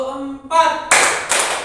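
Participants clap hands together in a classroom-style training session, a short burst of rhythmic claps that swells into dense, loud group clapping, with a voice speaking just before.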